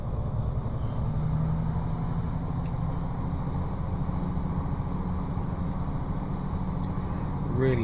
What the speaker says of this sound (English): Really having to listen out for the engine revs.